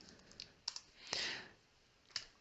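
A computer keyboard typed on while entering a formula in Excel, giving a few soft, sparse clicks and one longer brushing sound, quiet and close with no talking.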